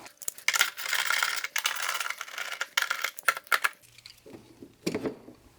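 Two 10mm bolts being loosened and removed from the engine bay of an RX-7 FD, with sharp metallic ratchet clicks and small clinks in irregular bursts, close and fairly quiet.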